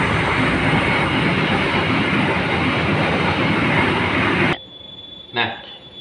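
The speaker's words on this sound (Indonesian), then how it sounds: "kita bisa lihat itu kereta lewat" A train passing close by, a loud continuous rumble and clatter of wheels on track that cuts off abruptly, followed by a brief faint squeal.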